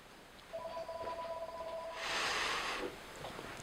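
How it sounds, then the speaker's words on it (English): A telephone gives a short electronic tone-like ring, two steady pitched beeps followed by a brief burst of hiss, faint and somewhat distant in a quiet room, with no talk. "that is the phone, so I'll be right back."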